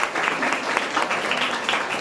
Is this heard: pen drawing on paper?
no